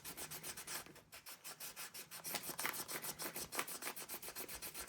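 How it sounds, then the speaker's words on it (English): A pencil eraser rubbing out notes on a junk journal page, rapid rhythmic back-and-forth scrubbing strokes, soft and close, steady for several seconds. "Let's just give it a quick rub out."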